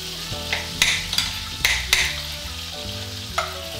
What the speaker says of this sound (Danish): Vi steger vores frikadeller cirka 2 minutter på hver side.